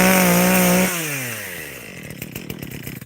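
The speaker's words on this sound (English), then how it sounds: "because it is a chainsaw" A chainsaw runs at a loud high idle, then its engine pitch drops and settles into a rougher, sputtering lower idle, close and alone with no talk.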